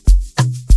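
Chords played in FL Studio: three separate synthesized chord hits, each a sharp attack that decays before the next, the middle one holding a sustained low tone.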